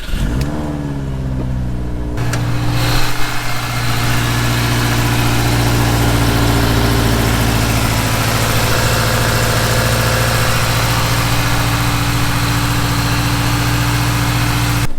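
A built Subaru engine with a newly installed wastegate starts and settles into a loud, steady idle, its low rumble and whine holding even and close for the rest of the clip.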